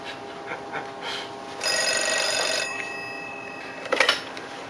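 A telephone rings in a quiet room, a steady tonal ring lasting about a second and a half, with faint rustling and soft movement around it and a brief clatter near the end.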